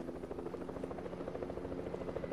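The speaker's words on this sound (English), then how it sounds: "I'm guessing that's the guy that's helicopter." A helicopter in the video game Fortnite thrums with a steady, fast rotor chop, faint and distant, continuing alone throughout.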